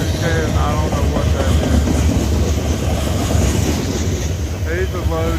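A freight train of tank cars, boxcars, a loaded grain car and a center-beam car rolls steadily past in dynamic braking on a downhill grade, with continuous loud rumble and clickety-clack of wheels and brief squeals.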